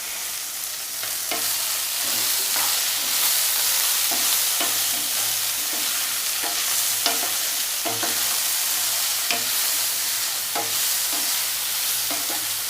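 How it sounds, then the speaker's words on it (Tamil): About ten garlic cloves and green chillies sauté in a pan of oil for ridge gourd thokku, a steady close sizzle broken by regular scraping stirs of a spatula. "பத்து பூண்டு பல் எடுத்து வச்சுருக்கேன் அதையும் சேர்த்து வதக்கிக்கலாம்"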